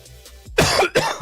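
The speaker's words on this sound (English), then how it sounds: "let me cough a little bit more" Two harsh coughs close to the mic, one after another, with a faint throat noise just before.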